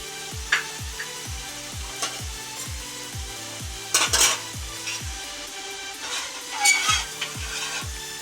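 Sweet potato pantua frying in oil gives a light sizzle under a regular series of rhythmic knocks, like a ladle or spoon working against a pan, joined by a few brief metallic clinks and scrapes. No one speaks.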